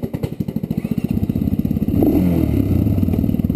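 A rough old tractor engine chugs in rapid, uneven pulses, then settles into a louder steady rumble with some clattering, close by.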